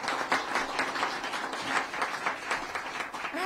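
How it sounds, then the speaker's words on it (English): A large crowd cheers and applauds at a public event where the governor and lieutenant governor announce support for rural communities; dense, steady clapping and cheering fill the whole stretch at moderate level, with no talk over it. "A huge cheer."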